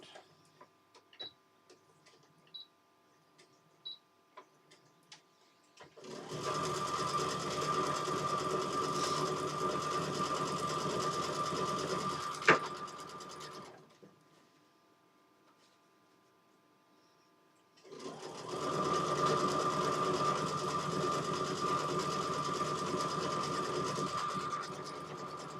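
A sewing machine runs a quick straight stitch in two steady, humming bursts of about eleven and eight seconds, with light clicks and handling noise before and a quiet pause between.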